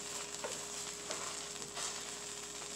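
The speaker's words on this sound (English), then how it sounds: "You're going to just give this one big stir." Pot of plain white rice stirred once, a soft continuous hiss with faint scraping and light knocks of the spoon against the pot, close and steady, no voices.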